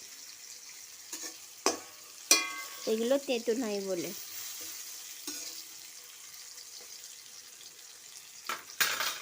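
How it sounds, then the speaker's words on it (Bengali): Bitter gourd fries in a pan until reddish, giving a quiet, steady sizzle with a few sharp clatters. A person speaks briefly over it. "করলাগুলো ভাজা হয়ে গেছে লাল লাল করে"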